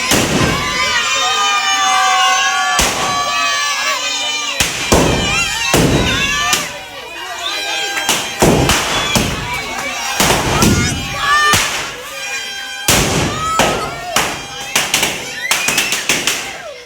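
Firecrackers burst inside a burning Ravan effigy at a Dussehra celebration, loud sharp cracks and bangs coming in rapid irregular volleys over about seventeen seconds, with crowd voices mixed in.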